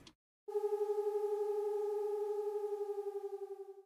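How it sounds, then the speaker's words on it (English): A synth tone made from a sine wave bent slightly toward a saw wave: after a brief click, one clean sustained pitch with a few soft overtones and a gentle pulsing wobble rings for about three seconds, slowly fading. "it's literally just a sine wave with a little bit of bend, so it's like a little bit more towards the saw wave kind of shape"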